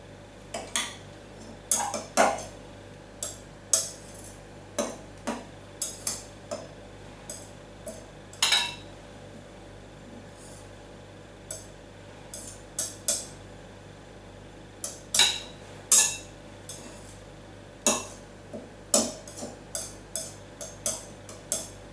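A tablespoon clinks and scrapes against a bowl while gluten-free pie dough is mixed, giving irregular bursts of sharp metallic taps separated by quiet pauses, with no talking.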